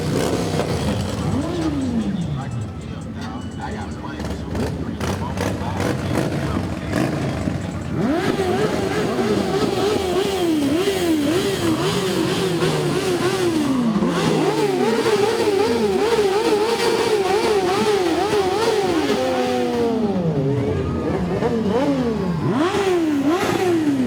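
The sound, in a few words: sport motorcycles revving in a holiday parade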